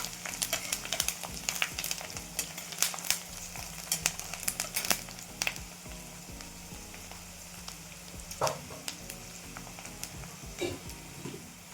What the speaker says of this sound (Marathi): फुटाण्याची डाळ हे पण छान परतून घेऊया.